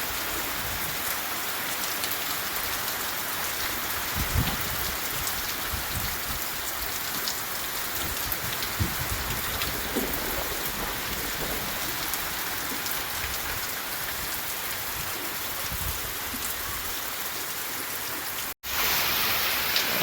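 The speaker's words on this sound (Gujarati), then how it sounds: "અને વરસાદ આવે છે ધોધમાર" Heavy rain pours steadily on a dairy farm with buffaloes in the Gir region, a dense, even hiss of drops hammering a surface for the whole stretch, with a brief dropout near the end.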